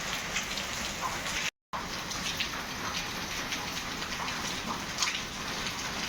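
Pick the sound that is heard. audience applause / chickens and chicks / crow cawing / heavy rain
heavy rain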